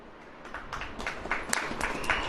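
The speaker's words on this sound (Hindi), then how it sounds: "ताली बजाइए" A church congregation claps during a sermon, scattered hand claps building unevenly over steady room noise, with no voices in the foreground.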